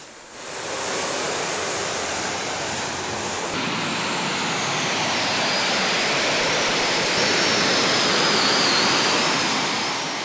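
Super modified pulling tractor engine revving at a tractor pull, a loud, continuous broadband roar that builds and holds steady for about ten seconds with no voices.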